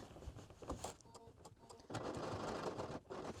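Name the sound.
sewing machine top stitching a skirt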